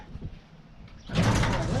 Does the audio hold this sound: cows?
no